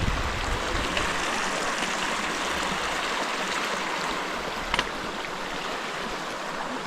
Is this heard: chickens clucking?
no